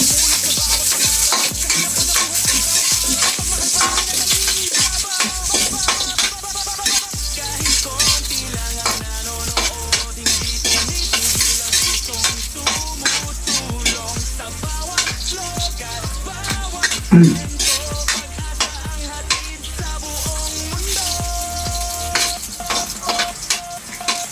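Ginger frying in a hot pan with bay leaves and pepper nearby, giving a loud, steady sizzle broken by repeated scrapes and clinks of the stirring utensil against the pan.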